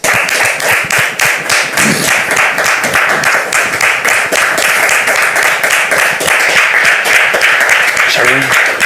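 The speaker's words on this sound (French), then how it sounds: "Merci de le recevoir sous vos applaudissements" A church audience gives a guest a warm welcome with dense, sustained applause, many hands clapping loudly and continuously at close range with no break, and a voice sounds briefly near the end.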